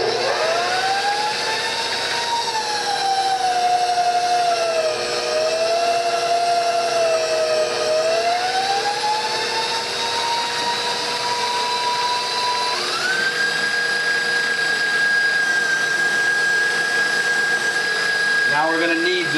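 Chocolate ravioli dough feeding through a pasta machine gives a steady, loud mechanical whine whose pitch sags, rises, then jumps higher and holds, over constant broadband rumble.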